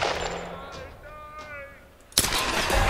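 Gunfire from the video game Tomb Raider bursts out loudly near the end, a sudden sustained volley. Someone talks quietly beforehand.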